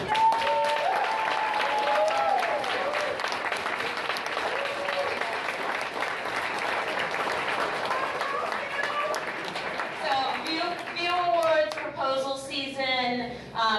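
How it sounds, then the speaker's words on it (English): A crowd at a Feast of the Leviathan XVII gathering gives a sustained round of applause that fills the whole stretch, with voices rising over the clapping near the end. "I just want to get a round of applause for Ian Bushy and everything he does with RealmsNet"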